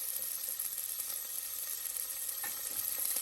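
Tomatoes and curry leaves sizzle steadily in a hot pan with oil, a continuous close frying hiss with faint stirring scrapes and no talk.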